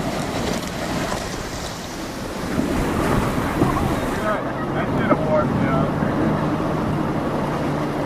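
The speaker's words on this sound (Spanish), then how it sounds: "Los rápidos de la Upper Granite Gorge, uno de los más peligrosos del cañón." Whitewater rapids of the Colorado River in the Upper Granite Gorge of the Grand Canyon, a continuous loud rushing roar with wind buffeting the microphone throughout.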